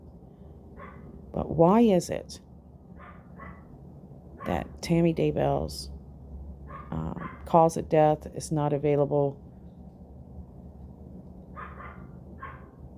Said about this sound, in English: I'm sorry for the puppy barking